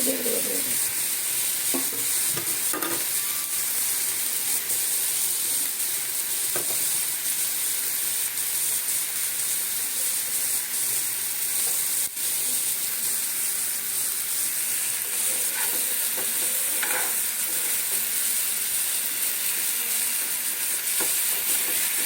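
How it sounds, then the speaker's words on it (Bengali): Masala paste sautés loudly in a pan, a dense, continuous hissing sizzle filling the whole stretch, with faint scraping strokes of a spoon stirring it now and then and no voices. "মশলাটাকে সুন্দর করে এরকম কষিয়ে কষিয়ে"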